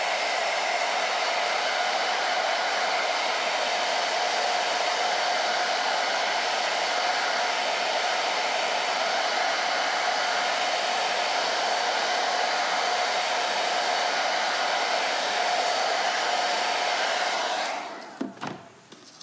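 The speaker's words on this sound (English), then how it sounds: "I am gonna hit it with a hairdryer before we pull it off," A hairdryer blows on a Christmas craft project in a loud, steady whirring drone with a constant whine, running unbroken for a long stretch before switching off with a few clicks and handling noises.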